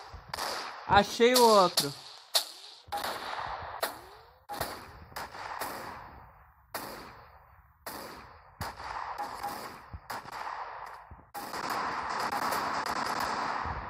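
Sniper rifle shots crack out one at a time in the Special Forces Group 2 shooter, sharp and fairly close with gaps between them, while someone talks over the action.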